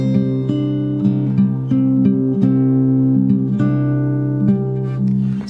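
Fingerstyle guitar slowly picks a theme, plucked notes ringing over sustained bass tones in a steady, unhurried rhythm, close and clear with no talking.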